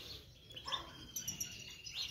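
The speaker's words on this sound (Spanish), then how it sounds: "la sorpresa de la verdona pía en la voladera" A European greenfinch chirps in an outdoor aviary, giving faint, scattered high tweets and short calls over a soft, steady background hiss.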